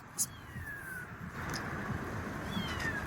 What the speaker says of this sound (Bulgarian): пускате клип на звук как майка вика котенцата си